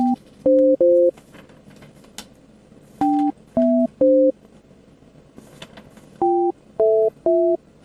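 Loud telephone tones sound while someone tries to place a call, heard as repeated short two-pitch beeps in uneven groups with gaps of faint hiss between them.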